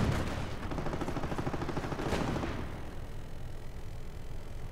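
Sustained gunfire from a strategy video game as units focus fire on grenadiers, a dense rattling volley that runs loud for about two seconds and then eases into a softer continuing clatter, with no voices.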